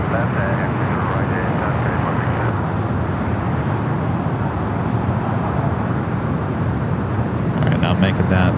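An airliner taxis at Los Angeles International Airport, a broad steady engine rumble and whine filling the scene at constant loudness, with a voice talking over it and faint high tones near the end.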